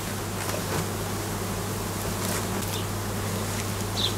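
Honey bees swarm around the hives of a stationary apiary, giving off a steady, dense buzzing hum, with a few individual bees passing close by.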